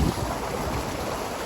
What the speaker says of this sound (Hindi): ये देखिए पानी चल रहा है